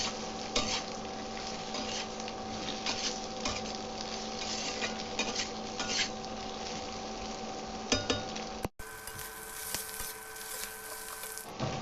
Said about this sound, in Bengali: পেঁয়াজটাকে হালকা করে ভেজে নেবো এক থেকে দু মিনিটের জন্যে